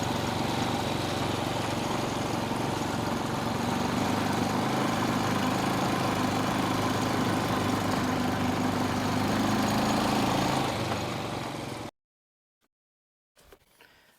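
A vehicle engine idles steadily and loudly close by near a soybean field, a dense continuous rumble that cuts off abruptly near the end, leaving near silence and a faint rustle.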